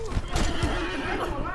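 A horse neighs in a video game, a loud whinny with clip-clop hooves, heard under excited voices of players talking.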